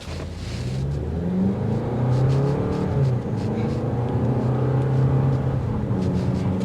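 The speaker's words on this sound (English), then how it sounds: "You're gonna hear the engine. It's gonna be a bit like a drone." A steady 2024 Toyota RAV4 XLE engine drones throughout, its low hum shifting in pitch as it revs and settles, heard from inside the moving vehicle.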